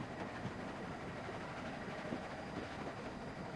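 A train in The Walking Dead game rolls along the tracks with a steady, dense rumble and faint rhythmic clatter throughout.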